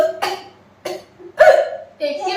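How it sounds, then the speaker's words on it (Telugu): Several sharp hiccup-like bursts, four in quick irregular succession, close and fairly loud, from hiccups brought on by eating fiery Rayalaseema chilli powder. "నువ్వు నాకు ఎక్కిళ్ళు"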